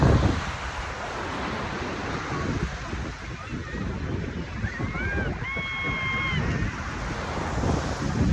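Waves wash and wind blows across a beach where a wedding is taking place, a steady surf roar with faint bird-like chirps.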